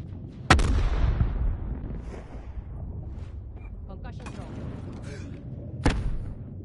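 A frag grenade in a shooter game goes off with a sharp, loud blast and rumbling tail, followed later by a second explosion; voices and game sounds fill the gap between.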